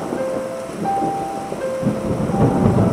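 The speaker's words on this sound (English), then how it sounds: "There's thunder and lightning." Stormy weather brings a continuous low rumble of thunder that swells toward the end, mixed with a rushing, rain-like wash and a few faint musical tones above it.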